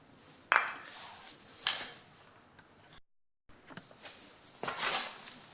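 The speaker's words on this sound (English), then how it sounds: "Now we can install our oil filter housing." Metal parts of an oil filter housing being fitted onto a Dodge Viper engine during assembly, giving a few sharp clinks and taps spread across a quiet workshop, with a brief silent gap midway.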